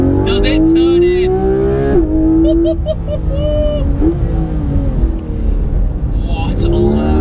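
A Porsche 991 GT3 RS driving and accelerating on roads in Tuscany, its engine rising in pitch through several revs with gear changes, loud and close, with a voice talking over it.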